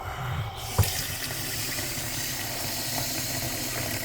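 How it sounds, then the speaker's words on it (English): Steady running water splashes into a pot of squirrel meat, a continuous rushing pour with a brief knock near the start. "I'm going to cover these with water."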